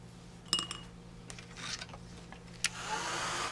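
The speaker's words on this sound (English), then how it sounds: "We'll dry that with the heat tool." A heat tool blows a steady hiss while drying gold paint on paper, with faint clinks and taps of craft items close by.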